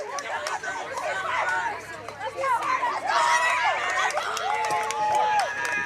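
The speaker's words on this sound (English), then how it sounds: "You hear the increase of cheering for Gatesville." Spectators at a high school baseball game between China Spring and Gatesville keep up continuous crowd chatter and cheering that rises and falls, with many voices blending together.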